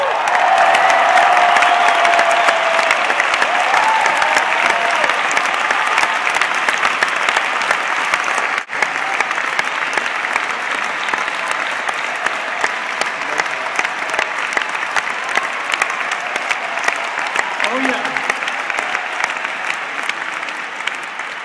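A large arena crowd at a concert in London's O2 Arena applauds steadily, a dense wash of clapping with a few scattered whoops that slowly eases toward the end.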